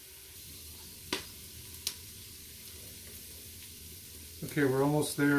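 Onions and peppers fry in a pan with a steady, moderate sizzle and two brief utensil taps, before a person starts talking over the frying near the end.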